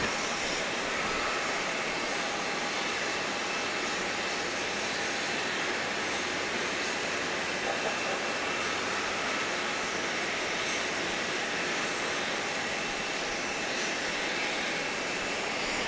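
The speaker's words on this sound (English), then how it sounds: "they're just getting the tug ready for the pushback" Steady, loud broadband roar of airport ground activity beside a United airliner at Grand Cayman as a tug is readied for pushback, a continuous hum and whine holding level throughout with no voices.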